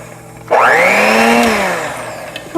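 An electric mixer starts abruptly and whirs loudly while mixing mashed bananas for banana bread, its motor pitch rising and then slowly dropping, close and steady, then cutting off near the end.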